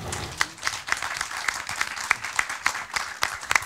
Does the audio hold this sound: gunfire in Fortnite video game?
no